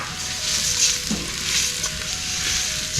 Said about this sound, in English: Now I'm going to add my rice.